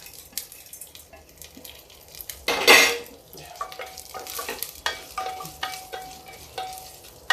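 Chana dal and black urad dal tempered with fennel seeds in hot oil in a pan for a brinjal dish, giving a burst of loud frying sizzle, then a steady crackle with stirring and light utensil clinks.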